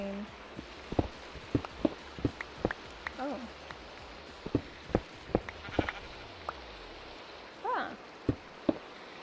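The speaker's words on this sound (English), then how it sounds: "Oh, I hear rain." Rain falls steadily in Minecraft as a soft continuous hiss, with sharp isolated drips and clicks scattered through it and a brief sheep-like bleat; a person makes a couple of short remarks.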